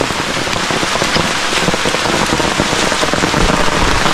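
Heavy rain pours onto a hiking trail on the Appalachian Trail, a loud, dense, continuous hiss with countless drops pattering close by, likely striking an umbrella overhead.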